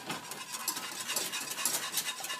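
A yogurt mixture for Gujarati kadhi being whisked in a pot, a quick, busy patter of close, soft strokes against the metal, steady throughout.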